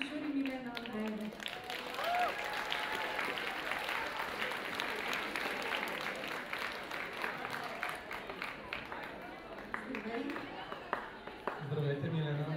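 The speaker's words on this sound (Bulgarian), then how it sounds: "Аплодисменти за част от нашото жури Милена Андреева." Applause from the audience at an anime expo awards ceremony as a jury member is called up, steady clapping through most of the clip with a voice speaking at the start and end.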